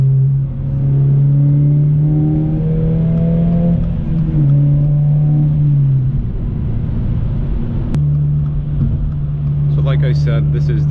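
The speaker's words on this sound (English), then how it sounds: "I really like how this car sounds. And now it basically pops at almost every gear when I downshift." A Subaru BRZ / Toyota GR86 with a muffler-delete exhaust drones loudly and steadily from inside the cabin, its engine note rising and falling, with a brief sharp pop near the end and a voice speaking under it.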